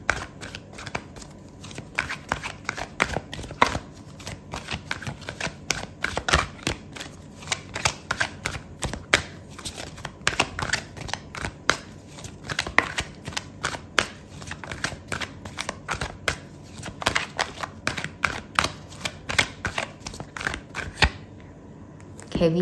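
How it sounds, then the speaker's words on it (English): Tarot cards shuffled and pulled from a deck during a reading, a long run of crisp papery flicks and slaps in rapid bursts, close and fairly quiet, with no talking. "I'm gonna pull out another card for you"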